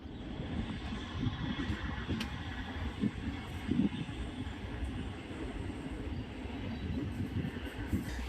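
A passenger train rumbles along steadily, a low continuous roar of wheels on rails with faint rattles and clanks throughout.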